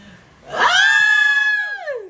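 A cat lets out a single long, loud, drawn-out meow close by, rising and then trailing off, with no other sounds around it.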